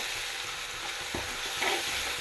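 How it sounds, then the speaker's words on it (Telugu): Onion and tomato paste frying in a pan for a sea-fish curry gives a steady, close sizzling hiss, with a brief clatter of stirring in the middle. "ఇప్పుడైతే మనం ఆనియన్ అండి టమాటా పేస్ట్ యాడ్ చేస్తాం ఇప్పుడు ఇది బాగా పచ్చివాసన పోయేంతలాగా బాగా వేగించుకోవాలన్నమాట"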